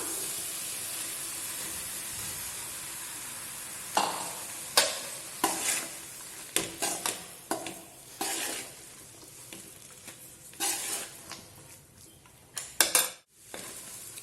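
Rice stirred into a coriander mixture in a pan, with a soft steady sizzle and repeated scraping and clinking strokes of a spoon against the pan, close and alone.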